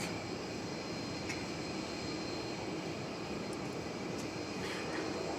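An American Airlines Airbus jet, Flight 529 bound for Los Angeles, at Dallas Fort Worth Airport, engines giving a steady broadband roar at a distance, with a faint tonal whine and no one speaking.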